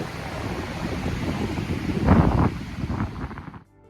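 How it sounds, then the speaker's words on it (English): Strong wind gusts buffet the microphone on the open California north coast, a steady roar that swells to a louder blast midway, then cuts off abruptly near the end. "It is windy here,"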